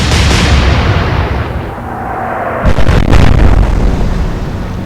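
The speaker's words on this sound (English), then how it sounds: "Well, we're putting shells into them." Naval gun shells firing in the Atlantic Fleet video game, a loud, continuous rumbling barrage of booms that swells again near the end, with no voices.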